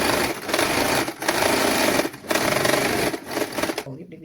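Sewing machine stitching fabric while making children's clothes, a steady close whirring run broken by brief pauses, stopping near the end.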